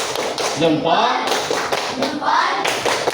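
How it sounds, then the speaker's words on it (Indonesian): A fifth-grade class does a rhythmic thumb clap, sharp taps landing in a steady pattern while children's voices chant along at close range. "Berikan tepuk tangan dulu. Tepuk jempol."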